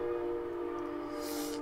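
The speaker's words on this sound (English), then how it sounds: "Sorry about the train, y'all." A passing train gives a steady tonal drone with a bright hiss building toward the end, continuous and moderately loud with no talk.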